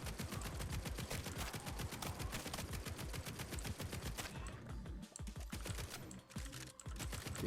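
Rapid, continuous gunfire in a survivorslike game, a dense, relentless stream of loud shots with a brief thinning in the middle, no voices over it.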